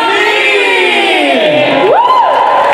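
A loud live crowd at a pop concert shouts and cheers for the singer in a dense, sustained roar, with rising and falling whoops standing out over the crowd noise.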